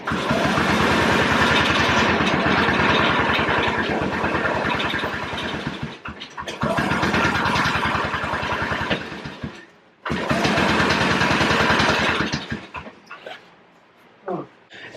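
An old EZGO golf cart engine cranks repeatedly without catching, loud and close, in three long grinding bursts separated by brief pauses.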